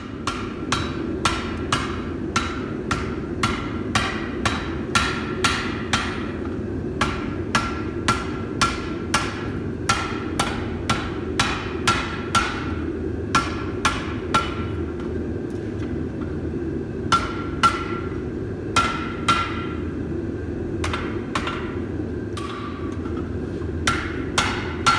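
Hammer blows ring out on hot iron being forged into pieces for a blooming iron tree sculpture, a steady rhythm of sharp metallic strikes repeated close by throughout with no speech.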